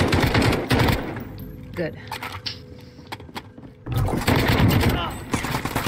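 Rapid bursts of gunfire in a Warzone duos match, close and loud, with players talking over the shots and quieter stretches in between.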